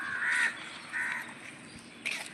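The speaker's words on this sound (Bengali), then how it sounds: "কাকেরা উপরে বসে আছে," Crows perched overhead waiting to be fed give three separate harsh caws, spaced roughly a second apart, moderately close and clear over faint background noise.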